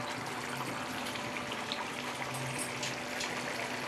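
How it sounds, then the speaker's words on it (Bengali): Crab curry broth boils in a pot with a dense, steady bubbling hiss close by, unbroken and fairly loud throughout. "বন্ধুরা, আমার ঝোলটা কিন্তু এবার ফুটে গেছে।"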